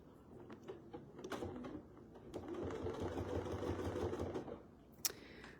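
A sewing machine stitching around a quilt block in bursts, with short runs of mechanical whirring broken by pauses and a sharp click near the end.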